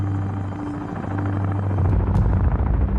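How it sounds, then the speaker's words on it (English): Stealth Black Hawk military helicopters take off, their loud rumbling rotor and engine roar swelling and thickening as they lift, with no talk. "the SEALs' stealth Black Hawk helicopters take off"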